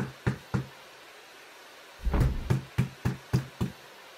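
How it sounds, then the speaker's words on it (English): Knocking on a door in a 2D story adventure game set in Bangkok: two quick raps, a pause, then a thud and a run of six evenly spaced knocks, close and clear with no voices. "Somebody knocking at the door?"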